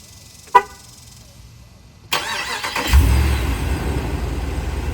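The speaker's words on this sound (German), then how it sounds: "Der Motor startet, die Klimaanlage geht an und das Auto wird vorgekühlt." A Dodge RAM 2500 heavy-duty V8 pickup started remotely: a short horn chirp, then the starter cranks and the engine catches into a loud, steady rumbling idle.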